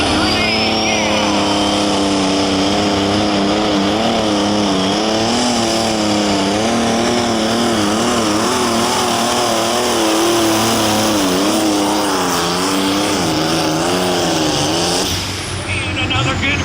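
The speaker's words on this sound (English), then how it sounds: "Here comes the Green Grenade, yeah!" Light limited super stock pulling tractor roaring down the track at a tractor pulling event, a loud sustained wavering engine howl with rising and falling pitch, an announcer's voice and crowd underneath.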